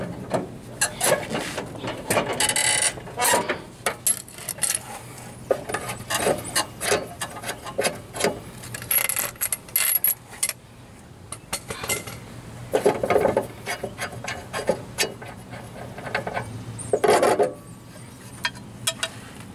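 Metal wrench work on the blade nut of a Troy-Bilt riding lawn mower, with the blade clamped underneath: loud, close rasping and scraping strokes in irregular bursts, no talking.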